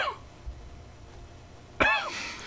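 A voice imitates two passers-by coughing at each other in the street: a single short, sharp cough bursts out near the end after quiet room tone.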